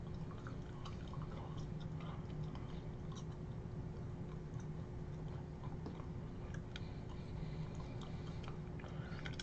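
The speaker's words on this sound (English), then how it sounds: "I don't know why I keep chewing it" Someone chews and bites through a Tom Brady trading card made of card or paper, producing soft, irregular crunching and mouth sounds close up over a faint steady hum, with no talking.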